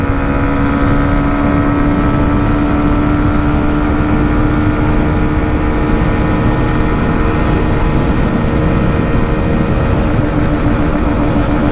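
A 2024 Hero Xtreme 125 motorcycle engine pulls hard in fourth gear during a top-speed run, giving a loud, steady droning hum with wind rush, close and unbroken throughout.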